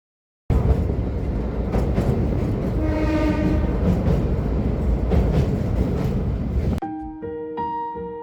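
A train passes close by a scenic railway station along the Hozu River in Kyoto, a loud, continuous rumble and clatter of wheels, then a sustained horn blast sounds as the noise fades near the end.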